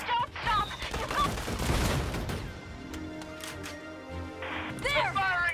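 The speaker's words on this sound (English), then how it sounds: "They're firing on us!" Gunfire from a Valkyria Chronicles 4 battle, a cluster of rapid shots and crashes with a heavy impact, moderately loud and set among game music and shouted voices.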